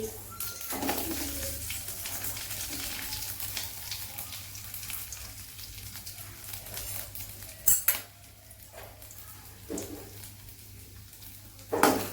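Urad dal, cumin, peppercorns and garlic sauté in a pan for a chutney, giving a steady low hiss with occasional sharp clinks of a utensil against the pan.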